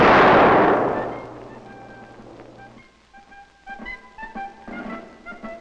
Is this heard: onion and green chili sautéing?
no